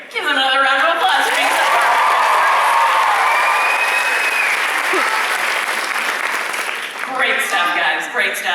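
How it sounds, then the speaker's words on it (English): Sustained audience applause with cheering from a large crowd at a Stranger Things fan panel at Fan Expo Canada, loud and continuous for several seconds, with voices speaking briefly at the start and end. "Give them another round of applause"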